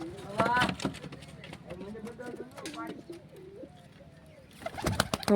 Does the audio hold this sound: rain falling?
no